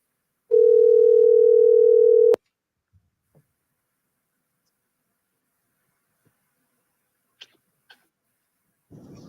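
A steady telephone dial tone sounds loud and alone for about two seconds as a call is placed, then cuts off, leaving near silence broken by a few faint clicks and brief noises.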